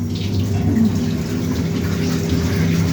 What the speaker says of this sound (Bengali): এই যে ওয়াশার মেশিন চলছে।